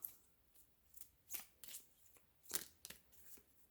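Tarot cards shuffled and drawn by hand: quiet, close bursts of riffling and sliding card noise, about eight short flurries spread unevenly over a few seconds.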